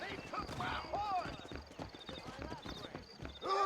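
Horse hooves clip-clop at a steady gallop in the Red Dead Redemption western game, close and continuous throughout, with a horse whinnying briefly and voices talking over the hoofbeats.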